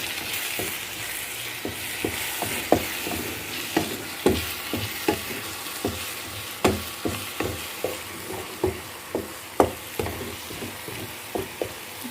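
A spoon stirs a hot harissa mixture in a pan, sharp scraping knocks repeating roughly every half second over a continuous frying sizzle, fairly close and clear with no talking.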